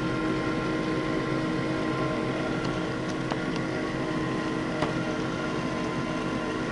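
A pulse motor generator spins steadily under a small 1 watt AC load, giving a constant even hum with a few faint clicks and ticks on top, no voices present.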